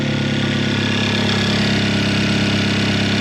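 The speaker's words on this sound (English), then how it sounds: "Yo, I could hear the dump tube. It turned on." A Kia K5 Optima engine runs steadily with its dump tube exhaust open, giving a loud, constant idle drone close by with no one speaking.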